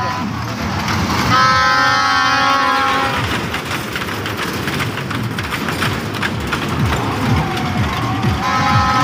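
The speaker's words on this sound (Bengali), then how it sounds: "দেখুন ট্রেন কীভাবে যাচ্ছে" Small fairground ride train at a village fair, giving a sustained horn toot for about two seconds over a dense bed of crowd noise and rumble, with voices talking throughout.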